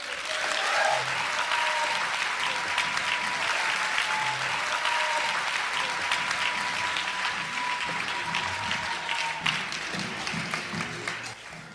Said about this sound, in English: I want you to give a big, fat round of applause to Amish Shah